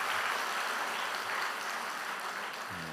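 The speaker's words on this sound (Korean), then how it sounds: "다시 한번 큰 박수 부탁드리겠습니다" Steady, dense applause from a church summer camp audience fills the space, loud and continuous throughout with no break.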